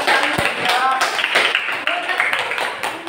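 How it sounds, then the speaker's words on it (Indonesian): Applause for a student group after their poster presentation in a classroom, a short burst of clapping mixed with voices and room noise. "Berikan aplaus untuk kelompok 1"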